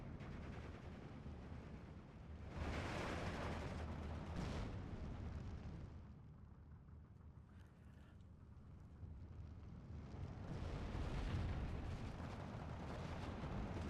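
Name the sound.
mortar and artillery fire in the video game Steel Division 2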